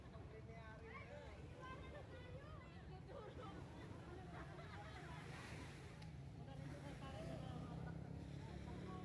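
Gentle sea waves wash steadily in a broad, soft roar with light wind, while people talk and murmur over the surf throughout.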